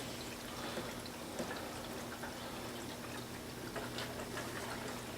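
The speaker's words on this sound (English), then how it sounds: "you pump it like this, and eventually the water will start flowing through" Water flows steadily through an aquarium siphon pump while servicing a Fluval Edge tank, a continuous close-up rush of running water over a low, constant hum, with no talking.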